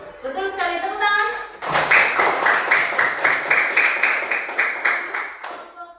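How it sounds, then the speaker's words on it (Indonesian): Classroom applause for a correct answer: after a brief spoken line, a group of students claps in a loud, rhythmic burst with regular, evenly spaced beats that carries on to the end. "Betul sekali, tepuk tangan."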